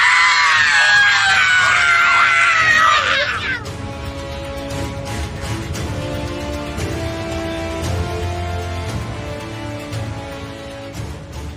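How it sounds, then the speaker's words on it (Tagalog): A woman in an audio drama screams long and piercingly inside a room, a loud sustained shriek for several seconds that breaks off into eerie droning music and rumbling background. "Umalpas ang napakalakas na sigaw ni Dayang mula sa loob ng kwartong kinaroroonan nila"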